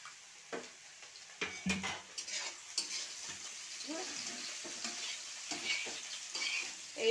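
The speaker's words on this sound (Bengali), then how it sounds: "এইভাবে নাড়িয়ে চাড়িয়ে সয়াবিনটাও ভালো করে ভেজে নিতে হবে।" Soybean chunks are stirred and fried in a pan, with a steady close sizzle under repeated scraping and clattering strokes of a spoon against the pan.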